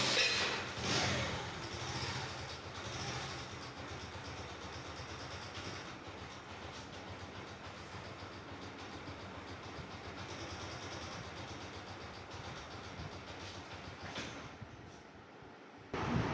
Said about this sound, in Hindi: टाइमिंग चेन गोटे डालने से बाइक का इंजन बिल्कुल स्मूथ हो गया है।